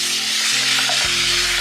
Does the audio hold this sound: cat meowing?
no